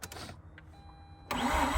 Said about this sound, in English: So let's try to start it up again.